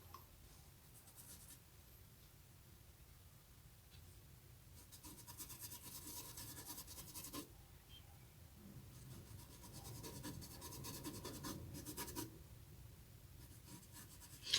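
A paintbrush applying ivory paint to fabric makes close, quiet brushing and scratching strokes in uneven bursts, growing busier and louder in the middle and later, with no voices.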